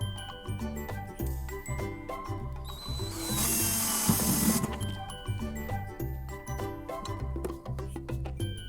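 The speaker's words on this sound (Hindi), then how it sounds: "सो हम लोग एक ड्रिल मशीन के थ्रू इसको हम लोग छेद करेंगे एकदम मिडिल में" A drill machine bores a hole through the middle of a part for a homemade electric bell, a single harsh whirring burst of about a second rising over steady background music.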